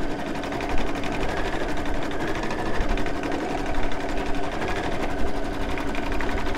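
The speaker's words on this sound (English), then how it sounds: "So now we're going to stitch down our fabric." An embroidery machine stitching fabric down in a hoop, a fast continuous mechanical chatter of needle strokes at steady loudness throughout, with no voices.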